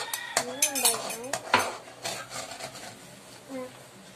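A spoon scrapes and clinks around a metal pan as cornstarch is stirred into a thickening sauce for homemade chicken and burger steak, several loud close knocks at first, then softer scraping with a brief hum.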